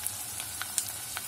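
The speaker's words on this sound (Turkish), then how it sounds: "Soğanlarımızı kavuruyoruz arkadaşlar." Onions sautéing in a pan of butter or oil for Turkish lentil soup, a faint, steady sizzle with small crackling pops scattered through it.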